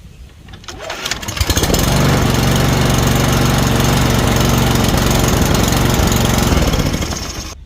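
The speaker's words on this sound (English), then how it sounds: "let's see if she will fire up." A lawn mower engine cranks and catches, then runs steadily at a loud, even roar close by for several seconds before cutting out abruptly at the end.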